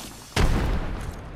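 A frag grenade detonates in the Apex Legends battle royale game, one sudden loud boom that rolls into a sustained rumbling tail, with no voices during the blast.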